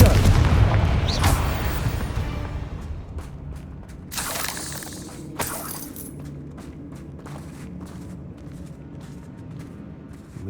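The Confringo fire spell in Hogwarts Legacy, cast inside a mine, bursts into a loud booming blast up front, followed by a few sharper cracks and a fading rumble.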